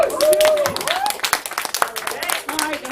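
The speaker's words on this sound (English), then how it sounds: "Let's hear it by applause." A comedy club crowd at Sacred Grounds in Tampa breaks into loud, dense applause with scattered cheers and voices mixed in throughout.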